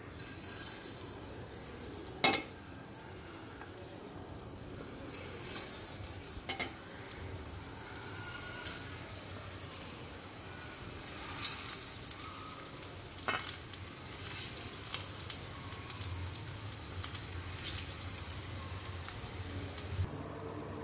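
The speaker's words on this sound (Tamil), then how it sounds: "இந்த டிக்கீஸை அந்த பேனில் ஆட் பண்ணிடலாம்" Green gram cutlets (pachai payaru tikkis) fry in oil in a pan with a steady, close sizzle that swells and eases, broken by occasional sharp crackles and clicks.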